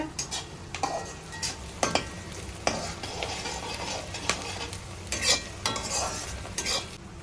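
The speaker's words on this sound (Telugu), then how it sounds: "ఇప్పుడైతే ఉల్లిపాయలు వేగిపోయినాయి" Onions frying in a pan for a cucumber curry hiss steadily underneath repeated sharp scrapes and knocks of a spoon stirring against the pan, fairly loud and with no voices.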